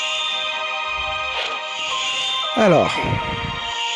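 Intro music from the mobile game Final Fantasy Dissidia Opera Omnia plays as sustained tonal chords throughout, with a short stretch of speech over it.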